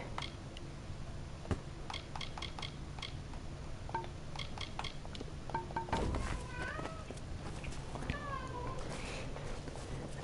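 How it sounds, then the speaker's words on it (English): A house cat yowls and meows in a string of rising, wavering cries, faint and fairly distant, over a low background hum with a few sharp clicks. "I'm not gonna pretend to know why my cat's screaming."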